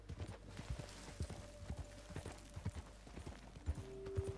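A horse's hooves clip-clop steadily at a walking pace in Red Dead Redemption 2, with fairly close, muffled thuds over a noisy outdoor ambience and a low drone.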